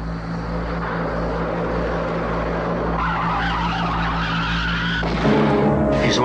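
A car skids as one of its tires blows out: a long, loud, steady screech over a deep droning rumble that suddenly shifts and breaks apart near the end.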